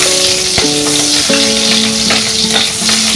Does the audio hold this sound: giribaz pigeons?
no